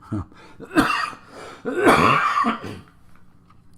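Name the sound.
cough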